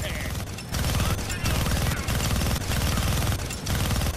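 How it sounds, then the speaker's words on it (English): Minigun fire in a Deadpool video game: a loud, sustained rattle of very rapid shots in long bursts separated by brief gaps, dominating the whole stretch. "Gonna need both hands to shoot that minigun."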